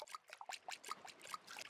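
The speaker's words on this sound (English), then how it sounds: "We got to water our plants here, though." Watering plants in the video game Summer in Mara: a faint, brief trickle of water with quick, rippling splashes that patter in an uneven rhythm.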